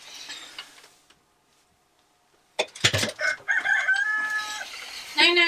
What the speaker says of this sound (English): Do you want to go see the rooster?